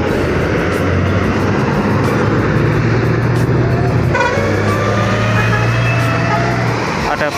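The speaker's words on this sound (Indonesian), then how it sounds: "di kejauhan ada bus Harapan Jaya non ekonomi keluar tol Banter" Loud, continuous traffic roar near a toll road exit at a roadside in East Java, with a heavy engine drone shifting partway through as an intercity non-economy bus pulls away, and a horn-like tone in the mix.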